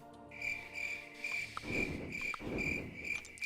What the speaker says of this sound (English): Now that one gets crickets.